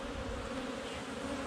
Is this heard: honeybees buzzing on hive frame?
yes